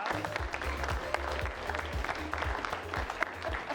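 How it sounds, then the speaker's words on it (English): Audience applause at a live improv comedy show, fairly quiet and continuous clapping, with scattered individual claps and a low hum of the room underneath. "So give those three a round of applause."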